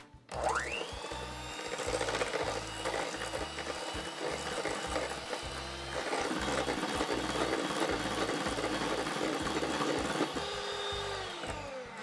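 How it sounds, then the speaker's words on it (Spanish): Electric hand mixer beating eggs and sugar to a creamy stage for an upside-down apple cake, a loud continuous whirring motor with rhythmic rattling of beaters against the bowl, steady for the whole stretch. "Vamos a batirlo con el azúcar punto cremoso."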